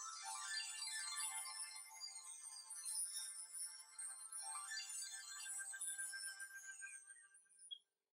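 A DIGGRO DI01 3G Android smartwatch plays its boot-up animation sound, a faint, bright, chiming jingle of high tones lasting several seconds before cutting off abruptly.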